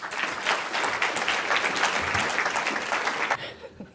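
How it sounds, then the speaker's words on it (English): Audience applause welcoming a university nutrition researcher to the stage at a pain foundation launch event, steady dense clapping from a room full of people that tapers off near the end. "A big round of applause, please."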